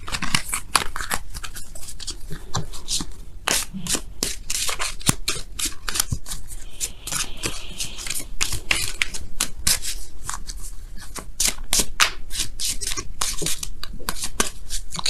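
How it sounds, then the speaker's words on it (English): Oracle cards are shuffled by hand in quick, crisp bursts of riffling and flicking. The close, papery rustles repeat without a break for roughly fifteen seconds, and nobody speaks. "now we're going to go ahead and pull you guys your oracle cards for the week"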